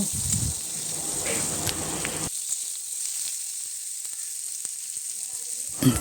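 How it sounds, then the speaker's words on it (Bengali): Potatoes frying in oil in a wok, a steady close sizzle that carries on throughout, with a brief louder burst of crackling at the start and again near the end. "তারপর ওই কড়াইয়ের মধ্যে তেল দিয়ে আলুগুলোকে ভেজে নেব"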